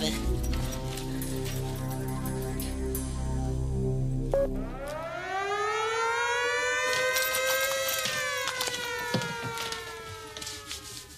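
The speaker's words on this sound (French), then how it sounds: "Quand on entend la sirène, on change." A loud siren signalling a shift change winds up and rises in pitch, holding a wailing tone for several seconds before tapering off, over earlier low musical or mechanical tones.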